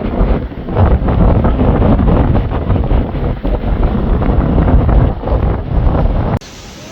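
Strong wind blowing on a hilltop, a loud continuous roar buffeting the microphone for several seconds, cutting off abruptly near the end.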